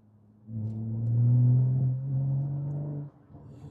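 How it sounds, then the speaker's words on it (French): A BMW M135i on the road, its engine surging into a loud low rumble with a rising tone as the turbo builds, holding for a few seconds and then falling back to a quieter idle-like hum. "T'entends le turbo un peu."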